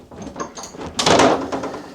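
A door inside an abandoned, humid house moves with a brief creak followed by a louder knock or thud, close by and with no talking.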